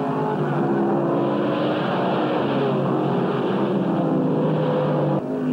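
Racing cars, a Mustang and a Javelin, roar around a race track in a dense, continuous engine drone with a steady pitch, loud and sustained before dropping off abruptly at the end.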